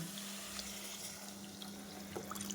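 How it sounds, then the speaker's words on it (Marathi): Water pours steadily into a pot of softened vegetables for a homemade soybean khichdi, a soft continuous rush with a low steady hum beneath it, quiet and without talk. "या स्टेजला आपण घालणार आहोत पाणी"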